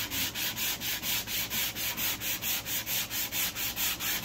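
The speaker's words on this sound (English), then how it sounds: "most of the sanding was done by hand." Rhythmic hand sanding on oak treated with grain filler, with about two dozen even back-and-forth rasping strokes repeating steadily and close up.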